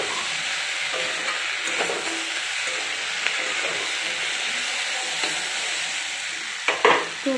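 Food sautés in a home pan with a continuous soft sizzle, light stirring scrapes and a few sharper utensil knocks toward the end, no speech.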